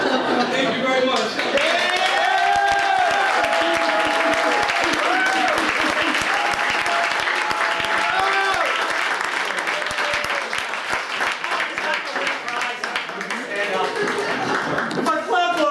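An audience at a live comedy performance claps continuously for about fifteen seconds, a thick steady wash of applause with tonal music or voices running through it.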